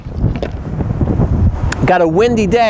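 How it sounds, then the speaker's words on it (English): Gusty wind on a tennis court buffets the microphone with low rumbling, followed by a wavering tonal whistle-like sound toward the end. "We got a windy day."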